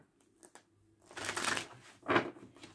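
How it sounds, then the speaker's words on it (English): A deck of tarot cards being shuffled by hand, close and fairly quiet, in two short riffling bursts after a brief soft pause, with no talk. "One more shuffle."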